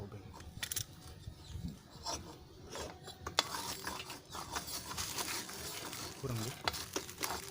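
Screwdriver and metal tool work on a Satria two-stroke motorcycle exhaust being repacked with glass wool, close rattling, scraping and ratchet-like clicks running continuously with brief voices in the background.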